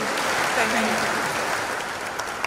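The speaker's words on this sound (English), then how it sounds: "I think that you can clap to that." A steady wash of audience applause at a KNUST agriculture anniversary celebration, continuous and fairly even for the whole stretch, with a hint of voices mixed in.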